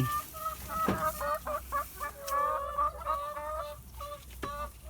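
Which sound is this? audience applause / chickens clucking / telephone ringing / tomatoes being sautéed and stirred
chickens clucking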